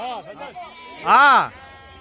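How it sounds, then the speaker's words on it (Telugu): Sheep bleat once, loud and close, in a busy sheep market at Gudur where ewes and lambs are being caught, following softer earlier calls and voices talking nearby. "గొర్రెలు పోతున్నాయి అటు లాగండి వెనక్కి లాగండి కొద్దిగా"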